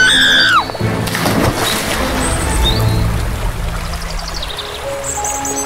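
Two girls tumble into a river from a swerving cart in an animated fairy tale, with a sudden loud splash followed by steady sloshing, pouring water that continues alone for several seconds.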